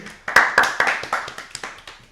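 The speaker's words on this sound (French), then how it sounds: "ça te fait rien, applaudit" A few people clap in a small room, close and distinct, about a dozen sharp claps in a loose rhythm with short gaps between them.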